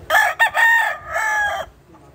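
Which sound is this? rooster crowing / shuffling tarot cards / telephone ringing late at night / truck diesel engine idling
rooster crowing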